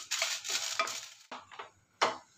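A dozen dried red chillies are stirred and scraped in a pan over a slow flame, giving bursts of dry rattling and scraping with short pauses between them.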